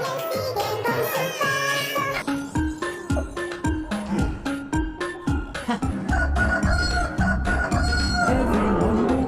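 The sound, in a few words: rooster crowing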